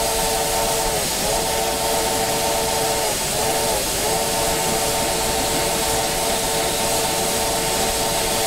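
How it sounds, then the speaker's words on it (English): A steam locomotive whistle in the Railworks train simulator blows a loud, sustained multi-tone chord over heavy hissing steam, dipping in pitch a few times before holding steady. "Good whistle."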